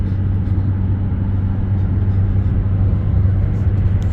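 Inside a camper van climbing a mountain road toward Payson, a steady, loud, low engine and road rumble fills the cabin without letup.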